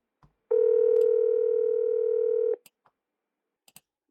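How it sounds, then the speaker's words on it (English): A single steady telephone tone, like a dial tone or call signal, holds for about two seconds then cuts off, followed by a few faint clicks in otherwise quiet surroundings. "Oh, it's a phone call."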